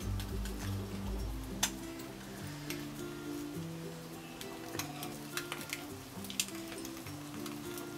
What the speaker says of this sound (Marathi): थोडं हलवून भाजून घ्यायचं।